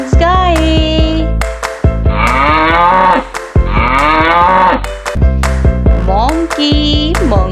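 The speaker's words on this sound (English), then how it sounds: "Cow. Cow means gaye." A cow moos twice in long, drawn-out bellows, close and loud, between upbeat children's music with sung phrases.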